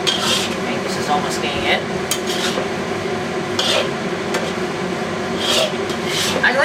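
Vegetables in a chicken stir fry are stirred and tossed in a pan. Repeated scraping and clattering of utensil against metal come in bursts over a constant sizzle, and a voice speaks briefly.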